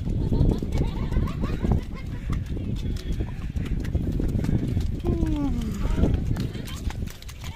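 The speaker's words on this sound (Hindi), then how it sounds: "तो भाई अपन कर रहे हैं हॉर्स राइडिंग." Five horses walk during a ride at Rohtang Pass in Himachal Pradesh, hooves clip-clopping steadily and close amid outdoor noise, with people talking throughout and a brief whinny near the end.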